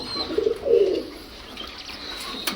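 A pair of Gola pigeons, a Makra-colored hen and a cock with two-colored eyes, giving a single soft coo up close, followed by quiet background rustling.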